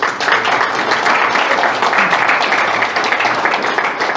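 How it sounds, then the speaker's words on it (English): Audience applause after a talk at a beekeepers' meeting on honey bee protein nutrition: a dense, steady wash of many hands clapping, loud and sustained throughout with no pauses. "So if we could just give them a round of applause."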